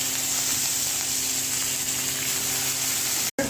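Onion dropped into hot oil already crackling with mustard seeds, curry leaves and hing for dal gives a steady, even sizzle that holds at one level throughout, with no voices.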